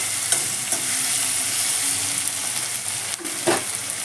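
Sliced onions with salt frying in a pan, stirred now and then: a steady close hiss of sizzling with a few soft scraping strokes, no talking.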